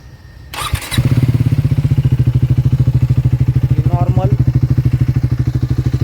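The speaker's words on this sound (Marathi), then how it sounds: "त्यानंतर आपण गाडीची फायरिंग टेस्ट करू की गाडीची फायरिंग ऐकवतो तुम्हाला" A Triumph Speed 400 motorcycle engine cranks briefly and catches, then settles into a loud, steady, evenly pulsing idle close by.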